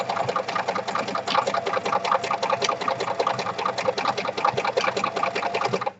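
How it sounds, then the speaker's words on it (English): A sewing machine stitches paper and a picture together, a close, continuous rapid whirring chatter of the needle at a steady pace that stops abruptly at the end, with no speech. "put my paper together and my picture and machine sew it"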